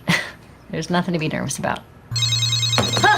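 A telephone rings with a steady electronic tone and bright repeating chirps, starting after someone speaks calmly and continuing loud and close for about a second, during a first-date scene.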